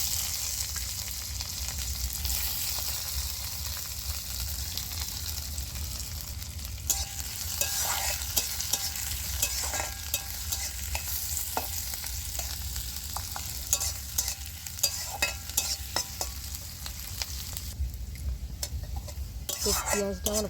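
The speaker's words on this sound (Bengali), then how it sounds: "এবার আমি কেটে রাখা পেঁয়াজটা দিয়ে দিচ্ছি" Chopped onion sizzling in hot oil in a pan during dal cooking, a continuous frying hiss with scattered scraping and clinks of a spoon stirring against the pot, close and steady throughout.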